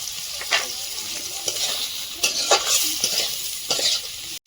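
Spices with tomato, salt, turmeric, coriander and cumin sizzle in oil for Bhola fish curry as a spoon stirs and scrapes the pan in repeated close strokes, with no voices.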